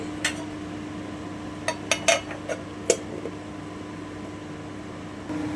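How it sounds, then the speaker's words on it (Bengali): Lid being fitted onto a metal bowl of hilsa fish for steaming, heard as a few sharp metallic clinks and taps scattered over several seconds against a steady low kitchen hum. "এবারে আমি বাটির ঢাকাটা আটকে দিচ্ছি"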